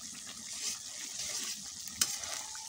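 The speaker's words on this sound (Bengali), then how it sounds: "আমি মশলাটা কষিয়ে নিতেছি" Spice masala fries in a pan with a soft, continuous sizzle and crackle, close but quiet, with one brief sharp clink partway through.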